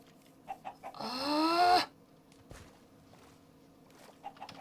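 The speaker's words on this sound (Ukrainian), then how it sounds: "Курка, курка." A single short burst of chicken clucking in a video game, close and clear, amid quiet game sounds and faint footsteps.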